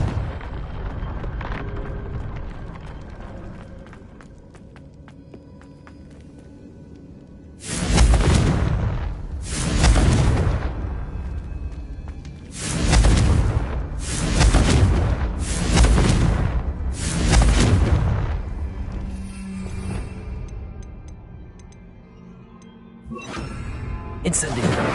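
Confringo blasting spells from Hogwarts Legacy on PS5 set off a run of deep, booming explosions, each one a long roaring blast, with some close together and quieter game ambience between them.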